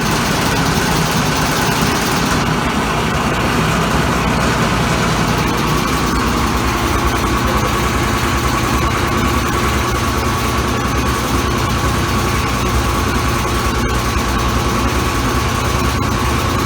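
A Kenmore Laundry Center washing machine runs a regular cycle on a load of clothes, giving a steady, loud, continuous mechanical drone with a low motor hum and rattling tub that holds unbroken throughout.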